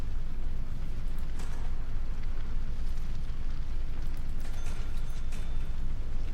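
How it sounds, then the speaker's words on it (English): Roaring, crackling fire noise from a burning laundry room in the prison-building game Prison Architect, a dense continuous rumble with faint bursts, steady and alone with no talk. "Your laundry's on fire."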